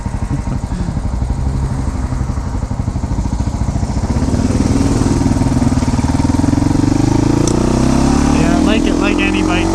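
Husqvarna 610 TE motorcycle engine idling steadily up close, a continuous low throbbing rumble that rises slightly in pitch and volume toward the end, with a person talking over it.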